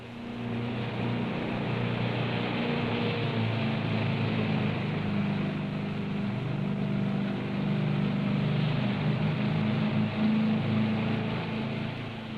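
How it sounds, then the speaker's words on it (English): River boat engines drone steadily as the boats push upriver through a gorge, a continuous low rumble holding at even loudness with no voices. "Engines checked, they're off upriver again."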